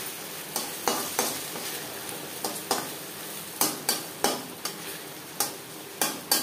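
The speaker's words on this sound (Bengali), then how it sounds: "রান্নাটা আমি রিফাইন্ড অয়েলে করছি, আপনারা চাইলে যে কোনো কুকিং অয়েলে করতে পারেন। এবার দিয়ে দেবো ডিমের ব্যাটার।" Egg batter for a two-egg omelette sizzles steadily in hot refined oil in a kadai, with sharp spatter crackles and stirring clicks popping out every half second or so, close and alone without voices.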